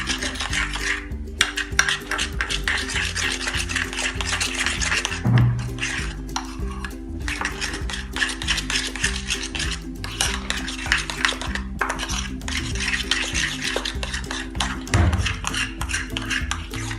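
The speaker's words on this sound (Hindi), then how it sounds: "इसे मिक्स कर लेते हैं अच्छे से। इसे अच्छा सा मिक्स कर लें।" A spoon scrapes and clinks steadily against a bowl while chickpea salad seasoned with black pepper and salt is mixed, a close, continuous stir with no talking.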